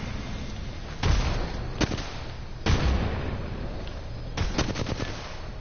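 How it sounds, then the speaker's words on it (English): Grenades explode in Apex Legends gameplay, several sharp blasts and bursts of gunfire cracking over a constant roar of battle noise, loud and close, with no talking. "Now I use my grenades to help my friends best I can."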